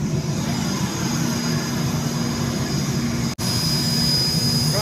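Loud, steady jet engine roar from an airplane heard up close while passengers board on the ground, with a constant whine over a broad rumble throughout.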